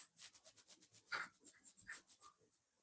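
Quick, rhythmic strokes of writing on a board or page during an English grammar lesson, about a dozen short scratches in steady succession, faint and close, with no talking.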